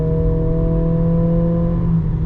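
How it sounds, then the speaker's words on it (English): Inside a 2025 Acura ADX A-Spec Advance in sport mode, the engine drones steadily under hard acceleration, a constant loud tonal hum from the cabin with no talk. "As you hear, the augmented sound of the engine does come through when you put it into sport mode."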